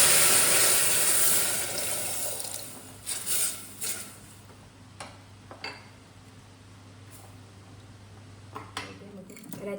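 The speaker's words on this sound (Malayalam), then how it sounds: "അതിലോട്ട് പുളിവെള്ളം ഇടയാം." Tamarind water is poured into ginger sautéing in a pan for injipuli, giving a loud hissing sizzle that fades into softer crackles, with a few clinks and a voice speaking.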